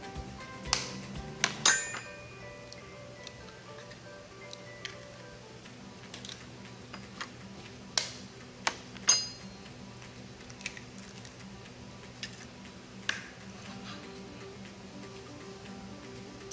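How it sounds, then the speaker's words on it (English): Eggs cracked for a steak egg roll recipe, heard as scattered sharp taps and clinks against a bowl or glass, with a cluster of louder knocks near the start and more isolated ticks later, fairly quiet and close, no voices. "now I'm going to crack my eggs"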